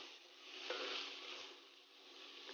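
Garlic hitting a hot skillet while cooking a sausage, pepper and rice jambalaya, a soft, steady sizzle and hiss that swells slightly and then settles, with no talk over it.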